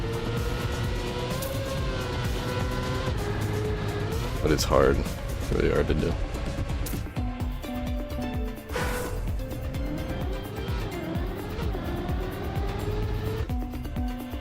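A racing car engine in the Trackmania game drones and revs continuously through drifts, with shifting pitch and occasional swells, running steadily beneath someone talking.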